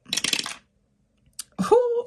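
Dice rattle in a container as they are shaken, a quick burst of clattering, then a short click before a voice exclaims.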